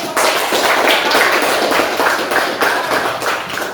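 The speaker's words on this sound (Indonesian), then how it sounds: "Ya, kita beri aplaus dulu ya. Tepuk tangan dulu." A university classroom audience claps for a student group after their presentation: dense, steady applause from many hands, loud and close, holding evenly for several seconds before easing slightly at the end.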